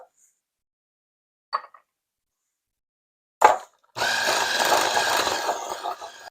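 An electric mixer beats cheese for an Italian Easter dessert. A few isolated knocks are followed by a steady, loud whirring drone that continues to the end.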